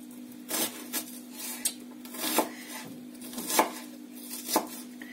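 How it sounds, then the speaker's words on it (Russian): Onion being chopped with a knife on a cutting board at home, a series of uneven thuds and scrapes about once a second over a steady low hum. "Нарезаем лучочек."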